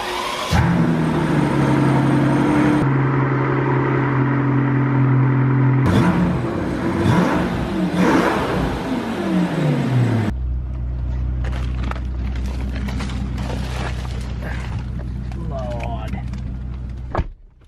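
A Mercedes-Benz S600 cruising through town at about 35 to 40 mph, its engine a low, steady hum and drone with a shift in tone partway through, under someone talking throughout.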